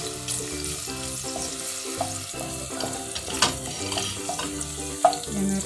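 Garlic frying in olive oil in a pan, a light crackling sizzle under prominent background music, with a few small pops and clinks.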